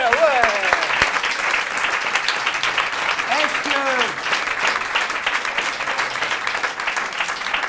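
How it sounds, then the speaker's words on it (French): An audience on a television show applauds with sustained, dense clapping, with voices speaking over it at times. "on peut encore les applaudir parce qu'ils sont vraiment top"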